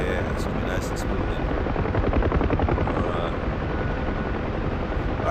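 A helicopter hovers close by, its rotor giving a steady rapid chop over a dense engine roar, with a voice talking beneath the noise.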